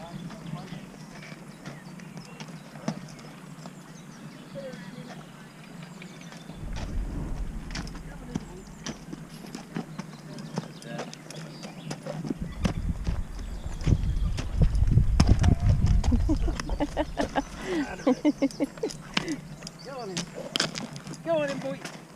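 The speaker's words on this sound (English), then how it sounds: "The horse pulling the boat." Hooves of a horse pulling a narrowboat clip-clop steadily on a hard towpath, moderately close, with people chatting and outdoor background noise throughout.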